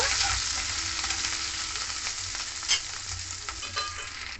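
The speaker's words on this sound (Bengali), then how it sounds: "আদাটা ভালো করে তেলের মধ্যে কাঁচা গন্ধ বেরোবার অবধি একটু ভেজে নেব।" Grated ginger frying in oil for a vegetarian cabbage dish, a steady close sizzle with a few soft stirring scrapes, no talk.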